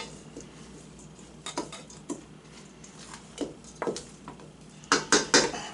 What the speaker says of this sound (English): So then I'm going to go my spoon, stir it around a little better.